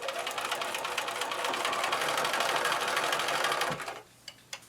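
A sewing machine runs steadily for about four seconds, stitching paper-pieced fabric for a pennant quilt block, a close, even mechanical whir that stops abruptly and is followed by a couple of faint clicks.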